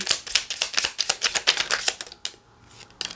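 Tarot cards are shuffled in a quick series of crisp riffling snaps, about a dozen in close succession, then a brief pause and one final snap.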